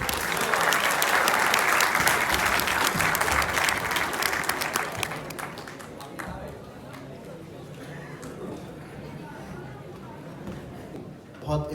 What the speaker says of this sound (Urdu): آپ کی بھرپور تالیوں میں سہیب مغیرہ صدیقی